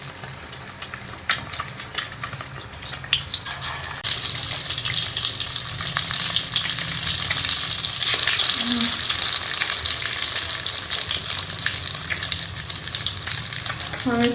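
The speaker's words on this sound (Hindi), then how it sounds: "मैं इसके अंदर मैं टिक्कियाँ फ्राई कर लूँगी। इसको अंदर अंडे के अंदर डिप करेंगे।" Egg-dipped aloo tikki potato patties fry in hot oil, a loud continuous sizzle and crackle close by that swells as more patties go into the pan.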